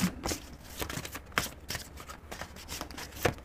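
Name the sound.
shuffling tarot cards to draw a card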